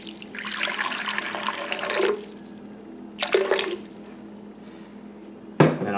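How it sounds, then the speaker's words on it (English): A cup of water poured into a blender jar for a smoothie, heard as a close splashing stream for about two seconds, then a second short pour and a brief clunk near the end. "I'll pour in about a cup of water"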